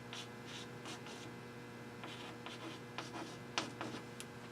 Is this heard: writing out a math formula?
yes